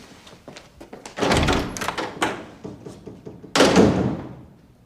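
A door slams as someone storms out in a drama scene: two heavy, close thuds stand out among smaller knocks and bumps, with no voices.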